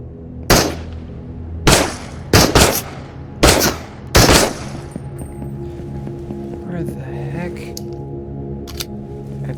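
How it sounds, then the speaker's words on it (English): Gunfire rings out in a horror-style video game, with several loud, sharp bursts of shots in the first few seconds that give way to quieter game ambience and faint movement sounds. "Whoa, who's shooting at me? That thing's shooting at me."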